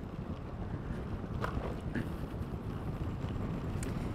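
Steady wind buffets an outdoor microphone on a rural Virginia road in Afton, a continuous low rumble with faint gusts throughout.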